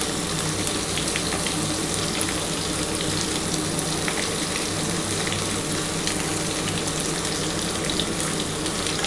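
Pointed gourd frying in oil in a pan for a vegetarian curry, giving a steady, even sizzle that holds close and unbroken throughout with no voices.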